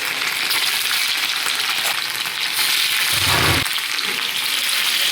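Paneer frying in hot oil, giving a steady close sizzle that fills the whole stretch, with a brief low thump partway through.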